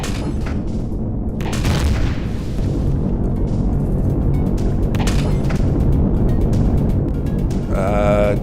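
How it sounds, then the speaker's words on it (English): Railgun fired from a Hammerhead Heavy Bomber ship in the Empyrion: Galactic Survival game, a deep boom over a constant loud rumble, with a few sharper blasts and a brief tonal effect near the end. "Did we destroy that turret with that one shot from the railgun?"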